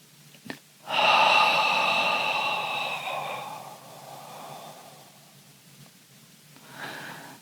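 A long, audible breath pushed out through the mouth during a relaxing 4-7-8 breathing exercise, soft and breathy, following a brief sniff, then fading into quieter breathing with a small exhale near the end.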